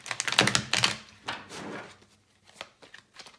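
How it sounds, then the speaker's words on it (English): Tarot cards shuffled quickly at close range, with a few dense papery riffling bursts early on, then lighter, scattered taps and flutters fading out; no talking. "So first I'm going to shuffle really quick."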